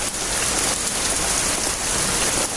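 Heavy rain pours steadily onto a car being washed outdoors, a dense, even hiss of drops drumming on surfaces, loud and unbroken for the whole stretch.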